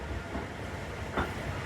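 The Faiz Passenger train rolls along on a monsoon route between Narowal and Lahore with a low, steady rumble and rattle, plus a brief clank just past the midpoint.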